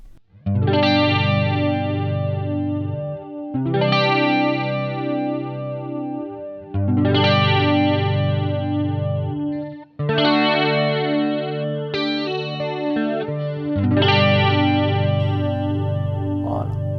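Electric guitar chords ring out one after another through a Tampco The Twist modulation pedal, each long sustained strum wobbling with a fast chorus-like swirl, loud and close with no talking.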